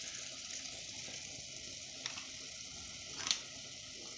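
Okra frying in a pan, a soft, steady sizzle at low volume with a couple of faint clicks near the end and no talking.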